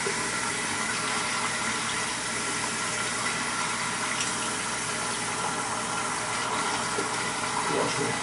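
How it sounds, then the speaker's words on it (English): Hot water running from a bathroom tap into a sink after a wet shave, a steady soft hiss and splash that holds evenly from start to end at a fairly low level. "get some hot water"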